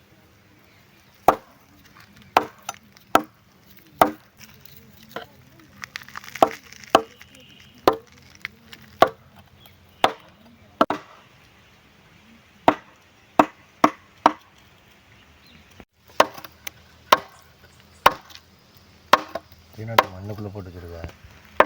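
Knife chopping chicken meat on a board, outdoors in a village forest setting, with about twenty sharp separate whacks in an uneven rhythm, close and loud, followed by a brief rapid flurry of cuts near the end, and a voice speaking faintly in between.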